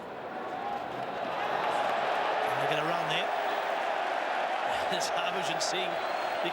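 A cricket crowd at the Gabba during a 2008 Australia versus India match swells into a sustained roar and holds it, with a commentator talking over the noise.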